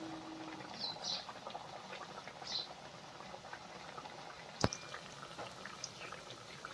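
Chapdi, a Kathiawadi fried bread, cooking in hot oil over a low gas flame gives a steady, soft bubbling hiss throughout, with one sharp click partway through.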